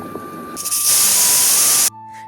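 Rice dropped into boiling water sets off a loud, sudden hiss of steam and spray that surges for about a second and then cuts off sharply, leaving a quiet simmer.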